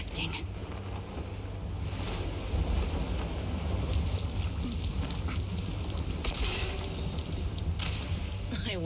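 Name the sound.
wind blowing in video game Zenless Zone Zero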